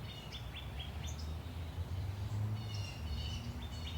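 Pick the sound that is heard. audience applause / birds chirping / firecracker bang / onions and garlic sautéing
birds chirping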